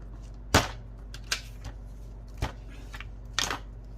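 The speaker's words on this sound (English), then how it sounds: "bang the table" Hands bang on a table while stamping and watercolouring botanical labels, four or five sharp, separate knocks at irregular intervals over a low steady hum.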